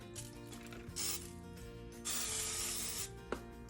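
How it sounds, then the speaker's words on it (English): Olive oil spritzed from a spray bottle onto a blooming onion headed for an air fryer, two bursts of close hiss, one short and one about a second long, with faint clicks of the sprayer. "take a little bit of olive oil and spritz it down really good"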